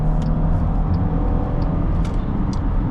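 Steady low road rumble and tire noise from inside a 2024 Chrysler Pacifica Touring seven-seat minivan driving along, with faint ticks and clicks over the even drone.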